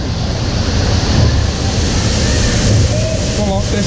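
Water rushes and splashes on the Hurricane amusement park ride at Bellewaerde, a loud, continuous roar mixed with buffeting wind noise close to the microphone.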